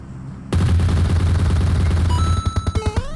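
Loud, close bursts of automatic gunfire in the mobile battle-royale game PUBG Mobile, a sustained rapid stream of shots followed by several separate distinct reports near the end.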